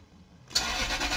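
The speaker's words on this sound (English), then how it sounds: "Let's see, let's start the car." A Toyota or Lexus car engine cranks and catches about halfway through, after near silence, then settles into a steady, fairly loud idle rumble.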